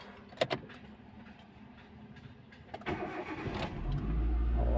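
A car engine cranks and fires after a fuel injector cleaning, with a few clicks and rustles first, then a loud, steady idle rumble close by for the last second.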